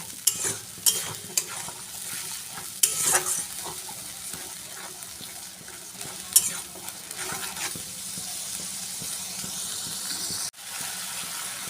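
Spice paste of garam masala being stir-fried in a hot pan for katla fish kalia with potato and pointed gourd, loud close sizzling with repeated spoon scrapes and clatters, continuous throughout.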